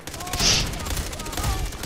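A short burst of gunfire from the Far Cry 3 video game, a few sharp rapid cracks with a brief bright whistle-like sound, followed by lighter reports, heard close with faint game voices underneath.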